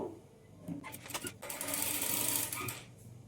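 A sewing machine stitches along the folded hem edge of a churidar pant, running in a steady close whirring burst that builds and holds for about two seconds before easing off.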